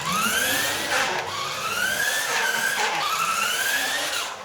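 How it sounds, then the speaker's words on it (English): A Tyco Bandit RC truck's tire rubs against its bumper, a loud continuous squealing whine that rises and falls in pitch over a grinding motor drone. "That is the tire rubbing on the bumper."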